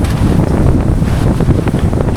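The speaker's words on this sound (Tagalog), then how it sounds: "napakalaki ng alon kabahay dito ang alon sa Lawis" Big ocean waves and strong wind at Lawis, Patnanungan, Quezon. Continuous loud wind buffets the microphone over the dull, rolling wash of surf.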